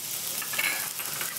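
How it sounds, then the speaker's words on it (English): Sweet onions frying with pecan-smoked bacon in a pan, a brief, close, bright sizzle with light stirring. "I'm gonna add my sweet onions to that."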